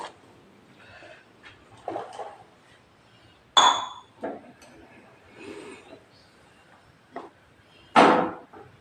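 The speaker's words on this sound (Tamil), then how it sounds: "அப்பதாவெல்லாம் டீக்கெல்லாம் கரண்டி வச்சு தான் கலக்குவாங்க" A metal spoon clinks against a cup while stirring tea, giving a few sharp isolated rings spaced apart over a quiet room, with faint speech in between.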